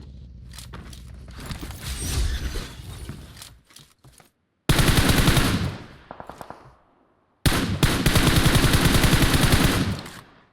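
Gunfire in a video game: bursts of automatic fire shot from inside a house, with loud, dense rattling volleys separated by short pauses, close and overpowering.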